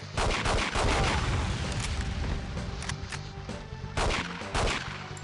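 Gunfire from the N64 game 007: The World Is Not Enough cracks out in a few loud bursts, sharp repeated shots clustered near the start and again toward the end over game background noise.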